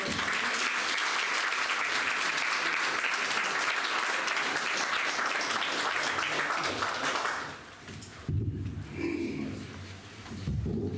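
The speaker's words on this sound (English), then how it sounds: "Please, a round of applause for our." An audience at a Neuro-Bio shareholders event in Culham applauds loudly and steadily for several seconds, then the clapping thins and fades out, giving way to quieter room sound near the end.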